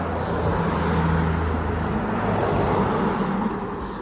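Traffic rolls past on the busy Military Road near Dublin, a constant dense rumble of cars and engines close by that rises and falls gently with each passing vehicle.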